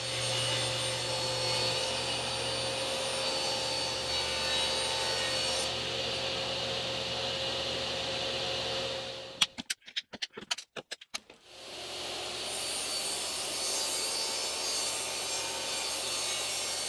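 A power saw cuts pieces from a sheet of cabinet stock for drawer parts, running as a loud, steady drone for about nine seconds, breaking off into a few sharp clatters, then resuming the same steady cut.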